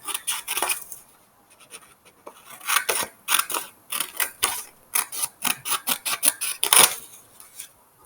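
Scissors cutting paper while setting up a math journal, a rapid series of crisp snips in uneven bursts, close and fairly loud, with short pauses between runs of cuts.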